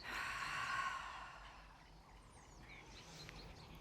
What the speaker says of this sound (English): a deep breath in and an audible breath out. Inhale deeply. Exhale completely.